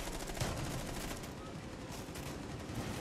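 Rapid, sustained automatic gunfire in a video game rattles on without a break, dense and fairly close, with voices faint underneath.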